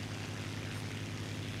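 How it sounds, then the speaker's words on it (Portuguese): A propeller airplane approaching in the War Thunder combat flight game, heard as a steady, droning engine hum with a strong low tone. It holds constant throughout with no talk. "E tem um avião se aproximando?"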